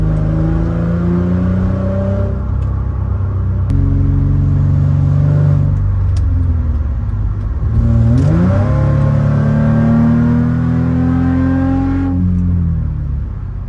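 Deep exhaust rumble of a Mercedes C300 4Matic with a polyurethane transmission mount, rising and falling as the engine revs, heard from inside the cabin, loud and steady with pitch sweeps.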